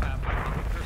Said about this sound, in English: That was a big bomb.